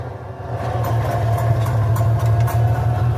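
A 706 tractor's engine runs steadily at close range with a deep, even drone and a rhythmic mechanical clatter on top as the PTO lever is engaged.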